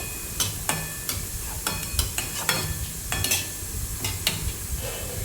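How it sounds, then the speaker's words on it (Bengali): A cumin and coriander powder mixture fries on low flame with a steady close sizzle, punctuated by occasional scraping and clinking of a utensil against the pan. "এবার এটা একটু ভালো করে মাখিয়ে লো ফ্লেমে আমি এটাকে একটু ফ্রাই করে নেব।"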